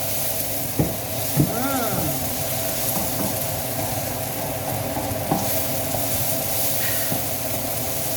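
Onions frying in a pan as they caramelize, a steady broadband sizzle with occasional scrapes and knocks of stirring, close and continuous.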